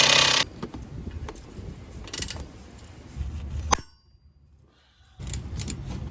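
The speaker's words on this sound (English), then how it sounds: "We're gonna remove those two bolts here." A ratchet wrench works on the exhaust manifold bolts of a 2014 Ford Fusion, giving scattered close metallic clicks and one sharp clang, then a brief near-silent pause before the clicking resumes.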